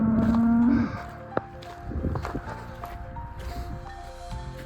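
A cow moos once in a long, loud, steady call on a hillside along the Camino Primitivo, then a short knock sounds and a busy mix of rustling and faint background noise continues.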